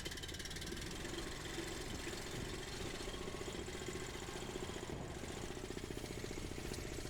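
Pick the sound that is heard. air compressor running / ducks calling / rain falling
air compressor running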